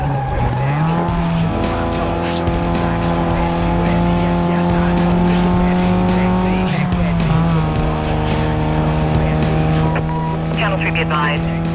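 Car in Need For Speed: Most Wanted Black Edition braking hard into a tricky corner, with a loud sustained engine drone, tire squeal and skidding throughout, plus a brief voice near the end.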